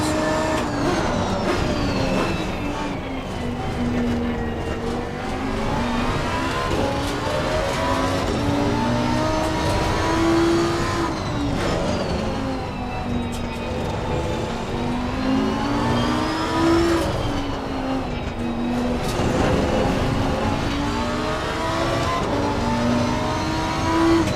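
Lamborghini Huracan EVO2 GT3 race car in Assetto Corsa Competizione at Valencia, its engine note climbing and falling through repeated revs and gear changes, loud and continuous with no talking.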